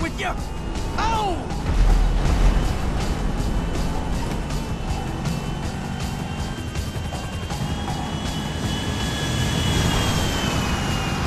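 A jet airplane roars in Grand Theft Auto V, a loud steady engine wash that holds throughout with a brief crash-like thump early on and people talking over it.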